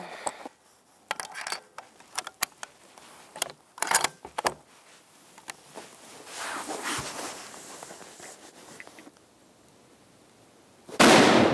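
A 300 Win Mag rifle firing Hornady 165 grain ammunition outdoors goes off in one loud, sharp blast at the very end, after scattered clicks and rustling of gear being handled.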